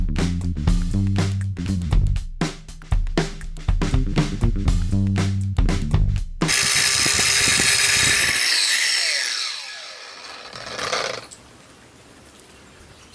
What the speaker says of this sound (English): you brace yourself with the grinder and grind the bevel